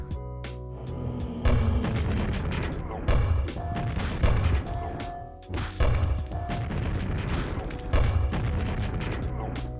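Heavy thumping blasts from a grenade launcher in Quake recur in an irregular rhythm of booms and crashes, loud and close, with a steady game hum underneath.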